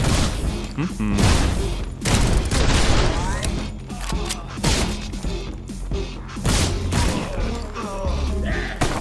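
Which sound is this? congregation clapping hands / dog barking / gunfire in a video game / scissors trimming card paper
gunfire in a video game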